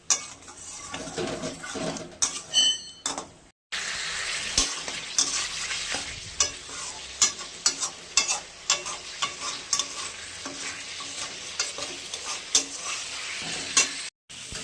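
Salted spices with turmeric and a little sugar stir-fried in a pan for a catla fish curry with potato and kohlrabi, a close sizzle broken by repeated scraping and clinks of a spoon against the pan, with no voices.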